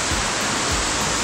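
Ranmudu Falls in Sri Lanka, a waterfall cascading down in tiers, gives a constant, dense rushing roar of falling water, close and steady throughout.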